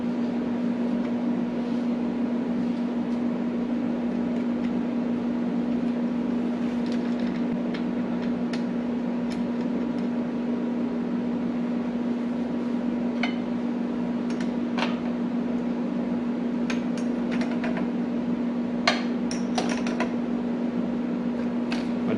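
A hydraulic pump on a Western MVP V-plow drones with a steady, even hum, lifting and dropping the plow, with faint scattered clicks and knocks over the continuous tone.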